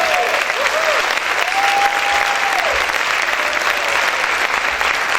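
A church congregation claps loudly and continuously in a dense, sustained wash of applause, with voices faintly mixed in under the clapping.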